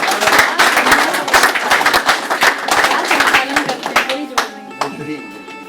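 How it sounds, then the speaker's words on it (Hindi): An audience at a Republic Day poetry recital claps loudly to welcome a poet, a dense patter of sharp hand claps that thins into scattered claps, with a voice beginning to speak near the end. "एक बार जोरदार तालियां बजा करके उनका स्वागत"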